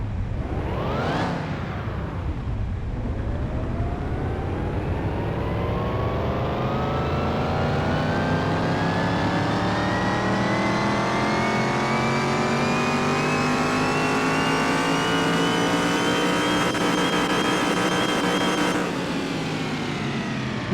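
A simulated car engine in Car Mechanic Simulator 2021 revs hard on a dyno, a loud, continuous engine roar that climbs steadily in pitch through one long pull after a quick initial blip, ending with a sharp drop off the throttle, with no talking.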